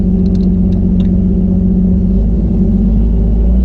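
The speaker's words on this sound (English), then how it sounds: "Truck is idling, driving in 4-wheel drive low." A Jeep truck idles and creeps along in four-wheel drive low, giving a steady, loud low-pitched engine rumble throughout with no change in pace and no talking.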